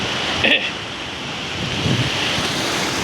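Sea waves breaking on an eroded shore next to a damaged building and a collapsing sea wall: a loud, continuous roar of surf mixed with wind buffeting the microphone, with a brief sharp splash near the start.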